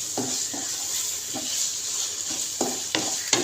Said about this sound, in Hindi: यहाँ पे अब हमने जो हरी मिर्चें फ्राई की हैं ये हम ऐड कर देंगे इसके अंदर और इसको हम पका लेंगे अच्छे से।